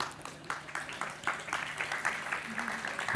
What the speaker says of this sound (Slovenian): Na vsako besedo direktor bomo zaslišali aplavz, kar je dobro.